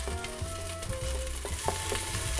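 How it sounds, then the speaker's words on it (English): Chopped onion and then ginger sizzle and fry steadily in a hot pan for a Filipino rice porridge, with a close, continuous crackle broken by a few stirring clinks and scrapes. "Onion for a few seconds, and then the ginger."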